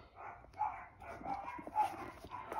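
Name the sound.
dogs barking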